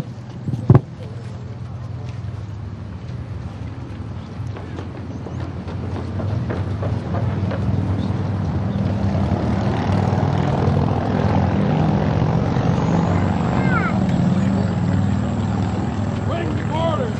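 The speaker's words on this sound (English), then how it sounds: "Engineer, start the engine." Steam-era gunboat USS Water Witch bringing its engine to life, a steady broadband mechanical rumble building over the first seconds and then running continuously at a loud, even level, with a sharp knock near the start.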